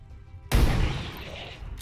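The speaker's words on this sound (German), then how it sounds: "Schöner Schuss." A gunshot in the video game XCOM 2 fires with a sudden loud crack and booming tail that rings out for over a second, alone without talk.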